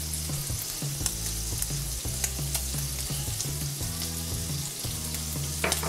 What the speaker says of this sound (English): Once the bacon's starting to brown, throw in the garlic.